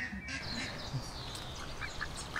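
Several ducks quack near and far, chasing people for food at an outdoor spot on a New Zealand summer day, with steady bright chatter over a constant outdoor background.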